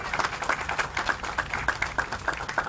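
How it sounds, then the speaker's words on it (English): Scattered clapping from a small audience at an outdoor press conference in Civic Park, San Antonio, with steady separate claps that stay moderately loud and sit over a low background murmur. "round of applause."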